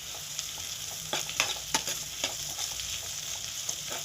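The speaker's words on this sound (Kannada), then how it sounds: "ಚೆನ್ನಾಗಿ ಫ್ರೈ ಮಾಡ್ಕೊಳ್ಳಿ." Chopped vegetables and chilli fry in a pan for vegetable upma, giving a steady close sizzle broken by a few sharp clicks of stirring, with no talking.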